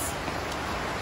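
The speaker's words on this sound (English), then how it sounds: "it's very windy outside and rainy." Steady broadband rush of rain, with wind noise buffeting the microphone, constant and fairly close with no voices.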